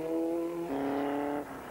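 A 1996 Swift Formula Ford race car on a South African circuit holds a steady, high-revving engine note, which steps down in pitch as it shifts gear. Loud and close throughout, with no talk.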